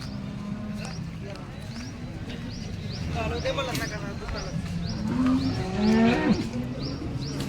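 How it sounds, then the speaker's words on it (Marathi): Cows moo at a busy cattle market held during a fair in Sangola, a low drawn-out call rising near the end over a constant crowd murmur, hoof clops and bird chirps, with people talking throughout. "तर यांनी गाय खरेदी केलेल्या आहेत तर दोन्ही पण गाय चांगले आहेत"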